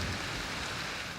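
Heavy rain pours steadily on a mountain trek, a dense, even hiss of falling water with no talk and no breaks.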